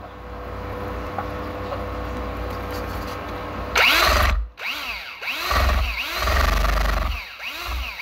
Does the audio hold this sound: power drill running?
yes